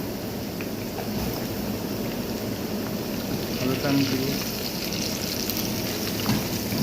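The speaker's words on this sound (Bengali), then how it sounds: "এখন আমি আলু দিব, এই যে আলুটা আমি দিব" Potatoes frying in a pan while desi (country) chicken cooks, giving a steady close sizzle and crackle that holds a fairly even level throughout, with no talk over it.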